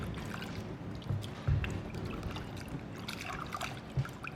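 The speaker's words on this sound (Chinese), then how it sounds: "我们用淡盐水将黄瓜清洗干净。" Cucumbers being washed by hand in light salt water, giving a steady close trickle and sloshing with a few louder splashes and knocks, and no voices.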